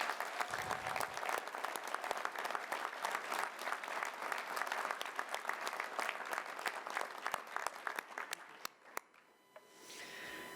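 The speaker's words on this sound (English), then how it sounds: "Give them a huge round of applause." Audience at a city State of the City event in Reno applauds a team of first responders, sustained clapping that thins to a few isolated claps and then fades into room murmur.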